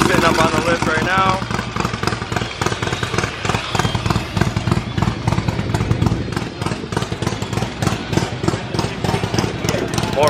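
Motorcycles at Daytona Bike Week make a dense, continuous roar of engines, loud and close, with someone talking over the noise throughout.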